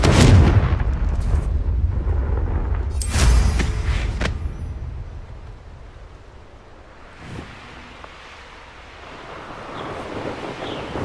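A Confringo explosion spell in the video game Hogwarts Legacy, heavy booming blasts with a rumbling tail, a second sharp burst around the middle, then softer ambient rumble fading out.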